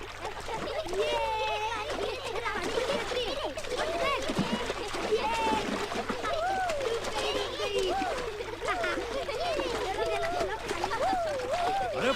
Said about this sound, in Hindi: बंद करो ये नहाना